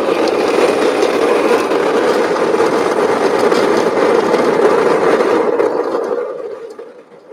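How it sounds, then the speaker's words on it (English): A Baratza Virtuoso burr coffee grinder grinds beans with a loud, steady whirring drone for several seconds. The noise then winds down and fades out near the end as the grinding stops. "We're going to bring in our trusty Barista Virtuoso."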